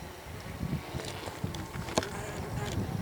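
Faint, steady hum of honeybees wintering inside a clay skep hive, a low muffled drone with a few soft knocks and rustles near the hive, no voices.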